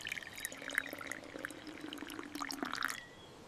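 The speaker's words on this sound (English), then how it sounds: "He took a glass cup and filled it with water," Water is poured from a container into a glass cup and filled to the brim, heard as a close, bright splashing trickle over about three seconds, with no voices.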